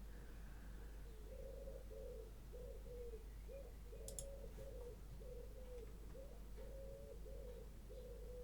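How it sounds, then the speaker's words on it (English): Doves or pigeons coo in a steady repeating rhythm of soft, low, hooting phrases, clear but not loud, over a constant low hum, with a brief higher chirp near the middle and no talk. "Doves and pigeons are just really wild sounding."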